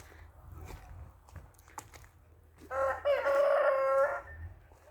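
Chickens cluck softly in the background of a village yard, then a rooster crows loudly and close for about a second and a half.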